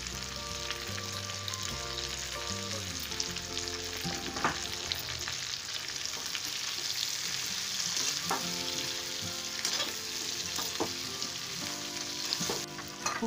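Stuffed okra (bharwa bhindi) frying in a pan gives a steady, dense sizzle that crackles continuously throughout with occasional louder pops, and no one speaks.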